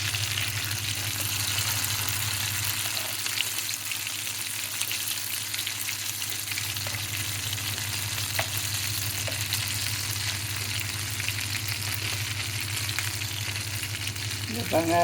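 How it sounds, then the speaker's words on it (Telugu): Mutton shami kababs shallow-fry in oil over a medium flame, giving a continuous, even sizzle that holds steady, with a few faint clicks along the way. "బాగా గోల్డెన్ కలర్లో వచ్చే వరకు వేయించుకోవాలండి. ఇది నెమ్మది కొంచెం మీడియం ఫ్లేమ్లో వేయించుకోవాలన్నమాట."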